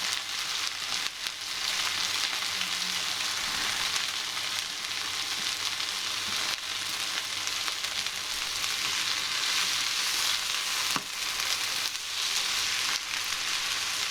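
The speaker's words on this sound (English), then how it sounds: "Stir Fry Veggies, bung them in, it'll spit a bit. And give them a good old stir." A pepper-based stir-fry vegetable mix sizzles hard in a hot pan, a dense, steady hiss with spitting crackles and the odd stirring scrape, loud and close without talk.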